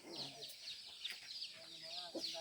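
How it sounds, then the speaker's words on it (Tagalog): Chickens clucking around a rural house and kitchen in the Philippines, soft scattered clucks mixed with low talk from people nearby. "May manok sila dito."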